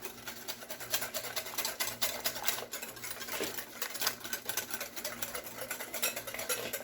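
A whisk beats a powdered chocolate pudding mix in a bowl, producing rapid, continuous scraping and clicking strokes at a steady rhythm, close and fairly quiet, with no talking.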